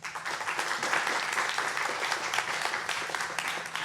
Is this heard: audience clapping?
yes